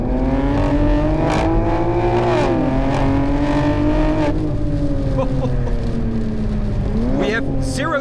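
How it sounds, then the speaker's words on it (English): BMW M2 with the S58 engine accelerating hard under an aftermarket exhaust: a loud, close engine note climbing through the gears with several shift dips and crackles, steady and dominant throughout. "The exhaust sound, I will just shut up now a little bit so you can hear it."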